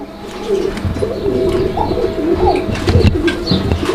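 A pair of pigeons coo repeatedly at close range, their low, rolling calls overlapping steadily against a busy background of other birds chirping and faint bustle.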